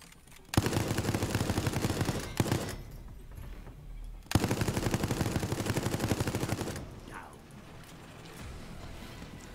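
Loud, close machine gun fire in Resident Evil, fired in two long rapid bursts split by a short pause, with a single shot between them and quieter game sounds after the second burst.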